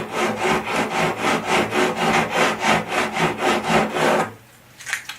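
A file rasps across guitar frets in about fifteen rhythmic back-and-forth strokes, close and even, stopping abruptly near the end with a couple of light taps.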